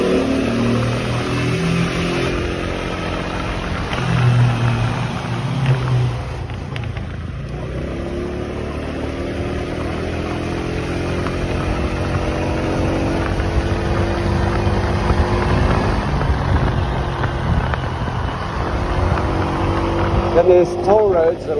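Motorcycle riding along a freeway in designated motorcycle lanes past toll roads, its engine droning steadily with wind and road noise throughout, while a rider talks over it.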